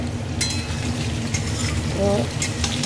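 A fish head frying with potatoes in a pan for a spinach chorchori, a loud continuous sizzle with a few sharp stirring clinks and a faint tonal hum.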